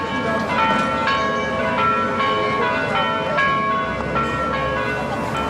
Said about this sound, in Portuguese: de tal maneira que você ouve o sino, mas não vê a igreja